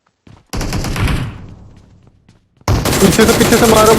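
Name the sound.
gunfire in PUBG Mobile video game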